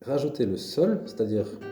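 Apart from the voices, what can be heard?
No everyday noises stand out.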